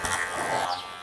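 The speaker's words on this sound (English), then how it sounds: "Working around the ear using the corner of the clipper." An electric hair clipper buzzes steadily while trimming a short men's haircut around the ear, a close, moderately quiet whir lasting about a second.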